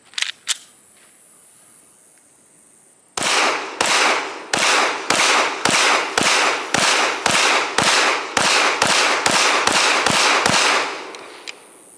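A Beretta 92X Performance pistol fires 15 sharp, loud shots in a steady, evenly spaced string, each crack followed by a short ringing decay, after a few faint handling clicks.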